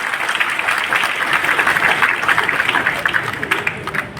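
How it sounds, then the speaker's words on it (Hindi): An audience at a Gurjar community gathering claps loudly to welcome newly elected MPs, a dense close burst of applause that fades slightly toward the end. "एक बार जोरदार तालियों से उनका स्वागत करें"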